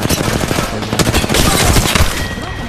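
Gunfire in the Apex Legends battle royale shooter: dense, loud volleys of rapid shots and fusillades that overlap continuously for a few seconds with no pause and no voices.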